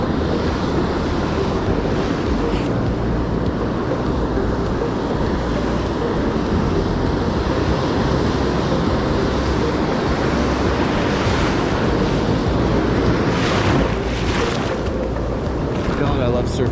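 Ocean surf rolls steadily onto a beach during surf fishing, a continuous broadband wash of breaking waves mixed with wind buffeting, loud and unbroken throughout.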